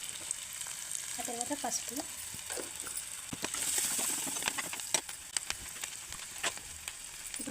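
Garlic, onion and cumin sizzle in hot oil in a pan with a steady hiss and scattered crackles and stirring clicks. A voice speaks briefly over the frying.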